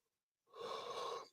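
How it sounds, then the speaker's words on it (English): A single drawn-out yawn from a tired man, a soft breathy exhalation lasting under a second, close and quiet, ending in a brief sharp sound. "Excuse me, yawning."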